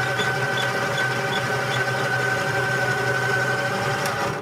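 A coffee grinder steadily grinds a blend of La Colombe Nizza beans, a continuous close whirring hum with a mechanical buzz that holds even throughout and cuts off at the end.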